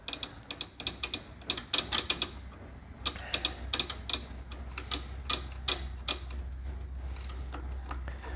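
A reverse-threaded screw being turned by hand on a DeWalt 12-inch miter saw, producing quick bursts of clicking, ratcheting ticks in irregular clusters, fairly close and moderately quiet, with no talk.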